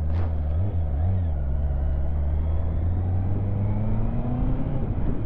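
A 2023 Honda CBR 650R motorcycle engine on a cool, cloudy daily commute, a steady close drone whose pitch wavers early and then climbs slowly as it pulls away, with faint wind noise.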